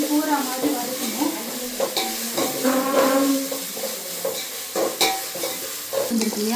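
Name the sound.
sautéing onions with ginger garlic paste for mutton biryani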